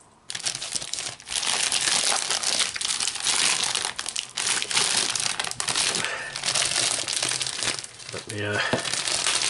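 Panini AXL Premier League starter pack packaging being ripped and crumpled close up, a long run of loud crinkling and tearing, with a voice speaking briefly over it.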